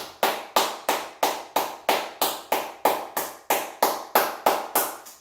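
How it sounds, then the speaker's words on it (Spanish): Slow, evenly spaced single claps, about three per second, sound close and sharp, like one person clapping along to a church service heard from home. "Aplaudan en su casa. Denle gloria a Dios."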